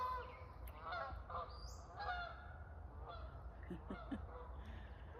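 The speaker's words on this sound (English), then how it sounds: "There goes the geese, probably down to the lagoon here." Several geese honk repeatedly at a moderate distance, overlapping calls over a low background rumble.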